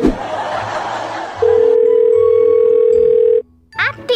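A telephone line sounds with a long steady electronic tone during a call, loud and close, after a brief stretch of background noise and ending with a short tonal burst.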